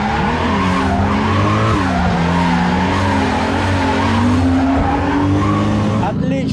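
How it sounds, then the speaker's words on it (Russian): A drift car slides at over 120 km/h at a motor festival, its engine roaring loudly with sustained tire squeal throughout, close and continuous, with speech faintly underneath. "Зрителям предлагают экстремальную поездку с заносами на скорости больше 120 км в час."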